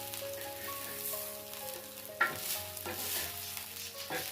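Raw banana slices fry on a tawa over a low flame, giving a steady soft sizzle with occasional stirring or turning clinks, close and unbroken by speech.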